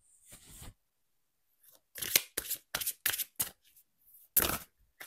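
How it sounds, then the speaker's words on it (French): An oracle card deck is shuffled by hand in a quiet room, making several short, crisp riffling and slapping bursts separated by brief silences, close and clear, with no talk. "Je bats les cartes."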